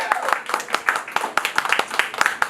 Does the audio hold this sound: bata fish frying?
no